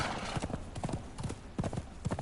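Horse hooves clip-clop in the Conan Exiles video game, a brisk, even rhythm of close, crisp hoofbeats over a layer of game background noise.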